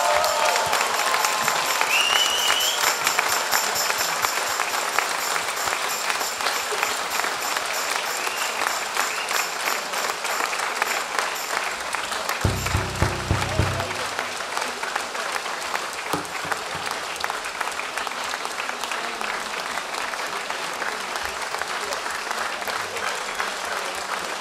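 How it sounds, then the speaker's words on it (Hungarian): An audience claps loudly and steadily at a tribute show in Sárvár, with dense sustained applause filling the hall and a short low musical sting midway. "köszöntsék nagy tapssal"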